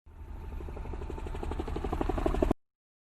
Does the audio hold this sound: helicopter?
yes